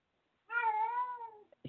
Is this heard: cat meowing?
yes